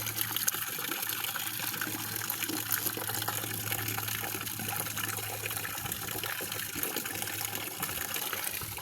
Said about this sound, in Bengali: পানি ভরা হইতে আছে